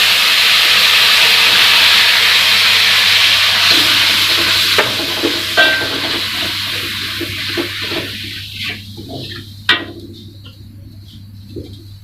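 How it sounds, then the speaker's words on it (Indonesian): Filling for spicy stuffed tofu (tahu jeletot) sautéing in a hot pan, with a steady loud sizzle and stirring scrapes and clinks, the hiss gradually quieting toward the end. "Sekarang kita tumis buat isiannya nih"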